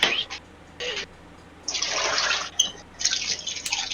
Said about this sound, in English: Someone making water.